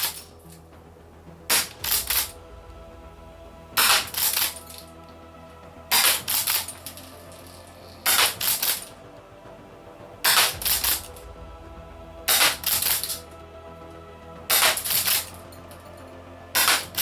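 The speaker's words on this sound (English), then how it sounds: "I'm just going to shove some more rounds in the shell" BBs being pushed into a gas shotgun shell for a Secutor Arms Invicta, sounding as close, loud, rattling clicks in short bursts repeating about every two seconds, with quieter handling in between.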